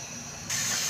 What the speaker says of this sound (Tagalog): sinalang na natin yung prito